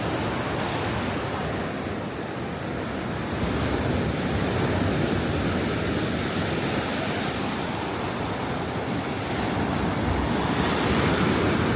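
Ocean surf washes steadily onto the long beach at Benidorm, a loud continuous roar of breaking waves with wind buffeting the microphone, no voices.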